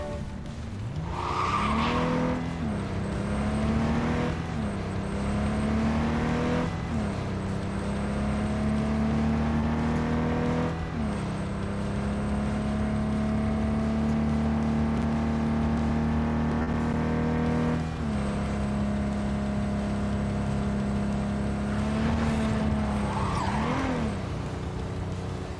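A tiny car in the video game Cyberpunk 2077 drives with a constant droning engine whose pitch rises and falls through gear changes, while its tires squeal and skid repeatedly throughout.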